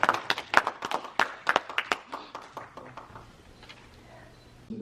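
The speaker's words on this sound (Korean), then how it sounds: "자, 박수합시다." Scattered, uneven hand claps from a church congregation at a pastors' prayer meeting in New York, a dozen or so sharp claps in the first seconds that thin out and fade into quiet room tone.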